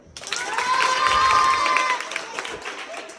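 Students clap and cheer together during a classroom push-up challenge, a dense burst of applause that rises quickly and then fades, with a shrill voice or whistle carrying over the crowd noise.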